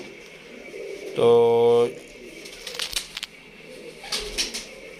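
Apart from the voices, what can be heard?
pigeons cooing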